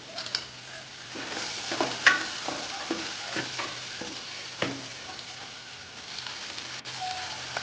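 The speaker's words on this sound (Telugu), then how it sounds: "ఇందులో కొంచెం తరిగి పెట్టుకున్న ఈ ఉల్లిపాయలు వేసేయండి" Chopped onions sizzle in hot oil in a pan while being stirred, giving a steady close frying hiss broken by scraping stir strokes and a few sharp clinks, with no voices.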